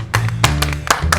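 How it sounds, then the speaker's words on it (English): Hand clapping: four sharp, loud claps close by in an uneven rhythm, with a low steady hum in the background. "If you think my clapping is loud"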